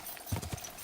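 Horse hooves clip-clop in Kingdom Come: Deliverance II, a few quick, close hoofbeats over a faint game background.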